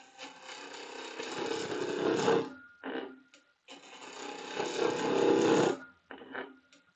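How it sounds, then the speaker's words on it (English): A chisel bouncing against out-of-round wood spinning on a lathe, two long stretches of rattling, chattering cutting that grow louder, each followed by a short burst, with quiet gaps between. "Going to use the back of the chisel on the top. It bouncing like that means it's not round."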